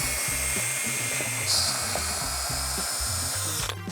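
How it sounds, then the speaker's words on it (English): A power drill bores holes through a Trex composite decking board, giving a steady whining drone with a rhythmic pulsing, close and loud throughout before winding down at the end. "drill it through the board"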